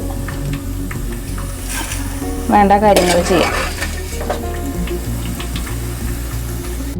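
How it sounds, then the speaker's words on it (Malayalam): Mushrooms frying in hot oil for a pickle make a steady loud sizzle throughout, with a spoon stirring and scraping the pan partway through while a person speaks briefly over it. "നന്നായി വറുത്ത് നന്നായിട്ട് ബ്രൗൺ കളറാവണം കൂണ്"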